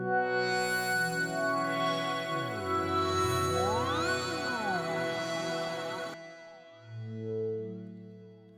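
Arturia V Collection synthesizer tones, dropped an octave, gliding up and down with heavy reverb, notes sweeping and echoing before cutting out, then a lower sustained tone returns.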